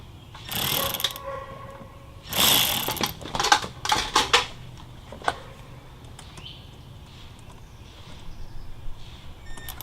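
Tightening a bolt while replacing the knock sensor on a 2001 Yukon XL, with a few short bursts of ratcheting and metallic clicks close by, then quieter clinks of tools.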